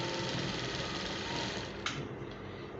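Sewing machine stitching a cloth cap, a steady fast mechanical whir and chatter up close, then a brief clunk as it slows, no voices over it.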